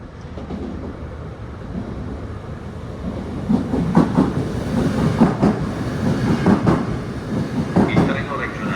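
Train rolling past at Venezia Mestre station, a loud close rumble with rhythmic clattering wheel beats building midway, amid station ambience and announcements.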